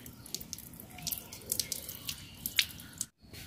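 Water from a rooftop tap runs and splashes as a hilsa fish is washed beneath it, with uneven spatters and drips before the flow cuts off abruptly near the end.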